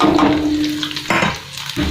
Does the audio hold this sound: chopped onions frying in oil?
yes